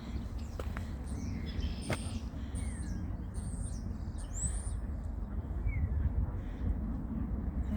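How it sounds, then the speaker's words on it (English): Birds sing and chirp from trees at Woodbine Beach in Toronto in winter, thin scattered calls and whistles rising faintly over a steady low rumble of ambient background noise. "Yeah, lot of birds here"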